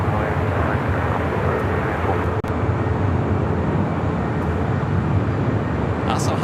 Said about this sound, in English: we got the Asiana A380 Super back taxiing, backtracking on 25 right.